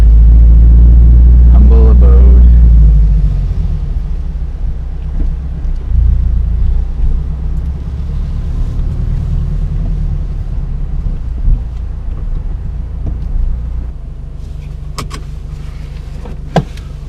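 A Toyota 86 fitted with a DC Sports cat-back exhaust idles slowly through a quiet neighborhood, its deep exhaust rumble loudest at first and then settling into a steady low drone with some wind noise.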